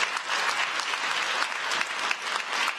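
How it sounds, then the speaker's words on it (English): Steady, dense applause from an audience at a startup pitch competition final, a continuous wash of many hands clapping for the contestants with no clear break. "let's give a big of applause for all of our contestants tonight"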